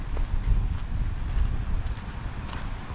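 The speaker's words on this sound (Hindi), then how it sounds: "ये सामने तेज़ हवा चल रही है" Strong wind gusting across an open mountain valley at Gabral in Swat, a steady broadband rush with low buffeting against the microphone, continuous and fairly loud with no talking.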